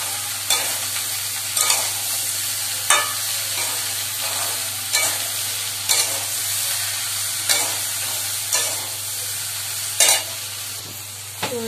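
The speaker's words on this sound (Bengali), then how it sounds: "মানে ভেন্ডি ভাজা হয়ে গেছে" Okra (bhindi) salted and frying in a pan gives a steady sizzle, broken about every second or two by sharp scrapes and clatters of a spatula stirring it, with nobody speaking.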